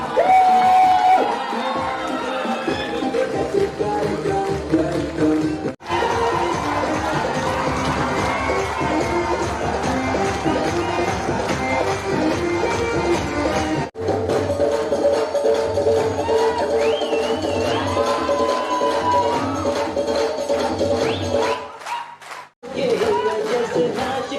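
A large crowd cheers and shouts loudly and continuously, with brief breaks, and a voice rising over the noise.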